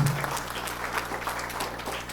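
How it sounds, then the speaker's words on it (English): Audience applause at an awards celebration for Delhi Public School, a steady wash of clapping that holds fairly even for about two seconds, with a low hum underneath. "Can I have a round of applause for that?"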